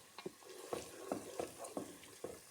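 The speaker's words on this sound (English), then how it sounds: "This has been frying for like 3 minutes." Food for jollof rice sizzles steadily in a hot pan, with repeated soft scraping and stirring knocks over the constant crackle.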